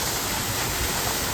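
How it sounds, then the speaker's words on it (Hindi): A mountain waterfall on the Kheerganga trek pours in a continuous, even roar of rushing water, steady and fairly close with no other sounds. "पानी में पैर से सामने झरना चल रहा है"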